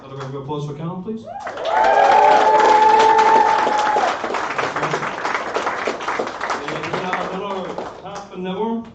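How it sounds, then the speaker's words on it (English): An audience at a live games festival breaks into applause between acts, a swell of clapping peaking loudly for a couple of seconds then thinning out, with talk before and after. "Another round of applause for Callum, please."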